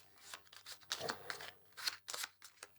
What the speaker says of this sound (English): So I now shuffle up that discard pile without looking at it